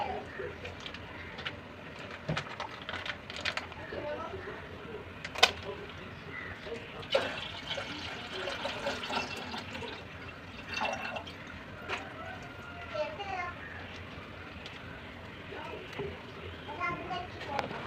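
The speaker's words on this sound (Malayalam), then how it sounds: "എന്നിട്ട് 2 കവർ പാല് ഇതിലേക്ക് ഒഴിക്കുക." Milk from two packets is poured into a pan on a gas stove while making semiya payasam, giving soft dripping, splashing liquid sounds. A voice talks throughout, and there are occasional sharper knocks.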